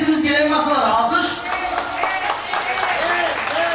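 Guests clap together at a Turkish circumcision celebration, a dense stretch of applause under loud, constant talk and music, near and sustained throughout.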